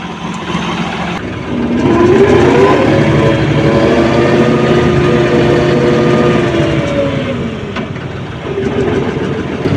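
A New Holland 5620 CRDI tractor's 65 HP diesel engine runs at low rpm, a close, steady rumbling drone whose pitch rises slightly and then settles back down.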